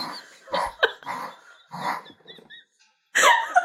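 A dog growls and barks in several loud, close bursts with short pauses between them, ending in a sharp louder bark.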